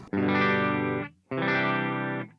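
Two strummed chords from an electric guitar on its bridge pickup, clean tone through a Line 6 Helix, each ringing about a second before cutting off, close and alone.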